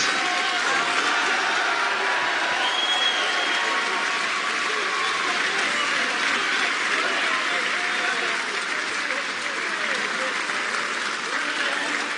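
A large snooker crowd applauds steadily and loudly after a Ronnie O'Sullivan century break, a dense, continuous wash of clapping lasting throughout.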